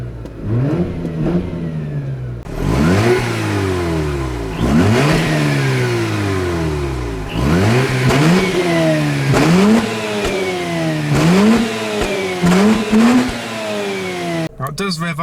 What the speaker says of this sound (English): let's give a few revs so you know what it sounds like